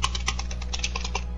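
Rapid typing on a computer keyboard used for gaming, a steady run of close, crisp key clicks over a low background hum.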